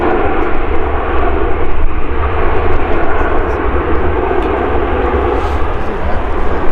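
A Jet2 Airbus A321 passenger jet at Manchester Airport gives a steady, loud, continuous engine roar with broadband rumble that holds through the whole stretch, and a voice talks faintly underneath.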